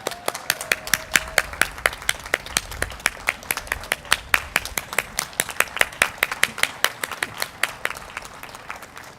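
A round of applause at a Rotary district conference, a smaller crowd clapping with distinct sharp individual claps in a quick, fairly regular rhythm, close and clear, continuing steadily for about nine seconds.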